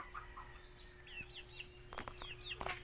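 Soft clucking and short calls from chickens, fairly faint and scattered over a low background hum, with a few sharp knocks near the end.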